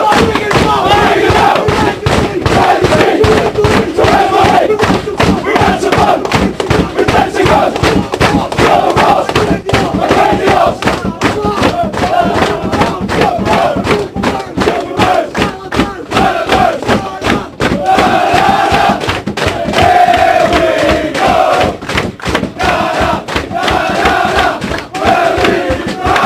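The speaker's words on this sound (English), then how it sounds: "Doing a team song at the moment." Rugby league players chanting a team song together after a match, a loud, rowdy group of voices shouting in rhythm amid stomping and crowd noise, sustained throughout.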